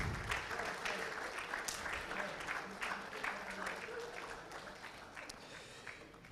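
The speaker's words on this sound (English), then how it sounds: "Please, let's give him a round of applause again." A conference audience at a Ghana population prospects event applauds a speaker, a fairly faint, sustained wash of clapping heard from a distance.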